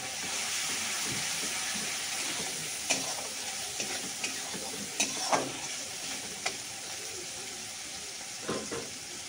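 Garlic frying in a pan for a prawn curry, a soft continuous sizzle with scattered sharp pops and occasional stirring scrapes, fairly quiet.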